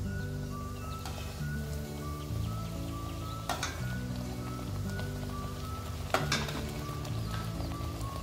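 Gharge, sweet fried puris, cook in hot oil with a soft, continuous crackling sizzle and a couple of sharper spatters, faint under steady background music.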